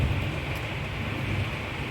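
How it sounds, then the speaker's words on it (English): Steady rain falling at night, an even broadband hiss with a low rumble underneath, continuous and fairly loud with no voices. "It's very nice combined with rain sounds when you're dreaming at night."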